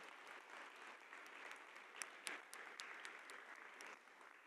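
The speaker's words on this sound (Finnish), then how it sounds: "Otetaan pienet aplodit tälle upealle videolle." Audience applause at an EU-programmes event in Finland, steady clapping from a seated crowd, moderately distant and fairly quiet, lasting throughout with a few sharper individual claps standing out.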